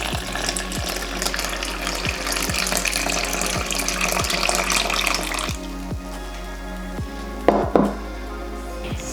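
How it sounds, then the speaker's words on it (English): Water is poured into a well of flour, yeast and salt for simple no-knead bread dough, a steady close trickle for about five seconds with a faint regular ticking, followed by quieter handling and a brief clunk near the end. "Now create a well and pour in the water."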